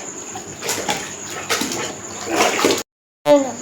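Wet mop swishing and splashing water across a home floor, steady sloshing strokes nearby with a brief pause and a voice talking over it.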